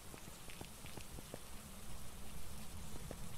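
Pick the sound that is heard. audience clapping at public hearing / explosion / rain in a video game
rain in a video game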